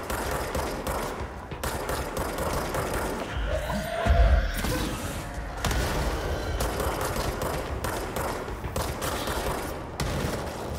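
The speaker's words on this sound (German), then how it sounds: "Wow, die explodieren." Rapid bursts of gunfire and booming explosions in the video game Control crowd together, with one heavy blast standing out, loud and chaotic throughout.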